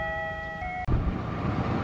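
A Parsel Selatan freight train hauled by CC201 and CC206 locomotives at an Indonesian railway line: a steady tonal hum cuts off abruptly, then a loud, broad rumble of the train passing close by takes over.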